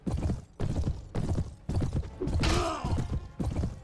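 Horse hooves from the video game Mount & Blade Warband with the Clash of Kings mod, rhythmic loud clip-clop strides repeating in even groups, with a brief whoosh of in-game action partway through.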